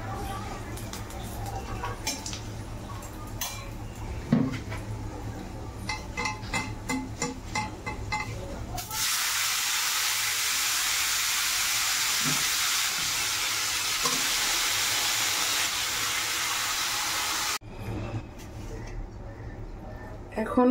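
Malabar spinach hits hot oil tempered with garlic and dried chilli, bursting into a loud, steady sizzle that holds for several seconds before cutting off, with stirring and clatter in the pan beforehand.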